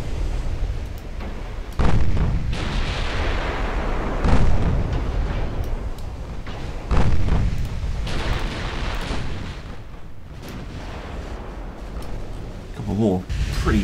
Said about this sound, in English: a couple of 12-inch guns